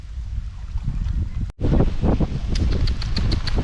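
Wind blows hard across the microphone at a fishing pond, a loud, steady rumbling roar with a brief dropout midway.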